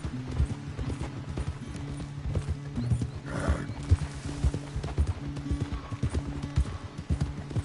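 A horse at a ranch runs with rhythmic clip-clop hoofbeats close by, breaking into a distinct neigh midway while the galloping continues steadily underneath.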